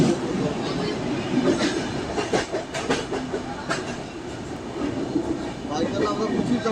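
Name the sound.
Udyaan Express train crossing another train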